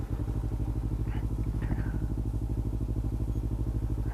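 A Kawasaki Ninja 300 motorcycle idles steadily, its engine giving an even, rapid low pulsing that stays loud and close throughout, with a little faint background noise over it.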